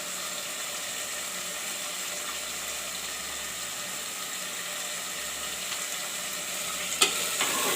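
Matar aloo, a pea and potato curry, sizzles steadily in a hot pan while being stirred, a constant frying hiss throughout with a brief clink near the end.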